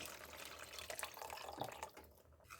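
Water is poured into a tamarind fish curry in a pan, a faint, soft splashing and trickling pour heard close but quiet, easing off near the end.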